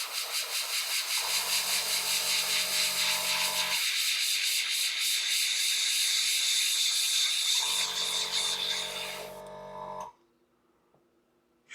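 An airbrush spraying yellow paint onto a Warhammer Warcry miniature gives a steady close hiss with a low compressor hum cutting in and out, lasting about ten seconds before stopping abruptly.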